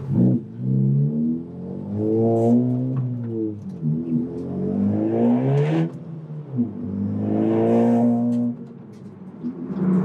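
A deep Honda Civic Type R (FK8) modified exhaust revs up and down in loud, rumbling swells, close and continuous throughout.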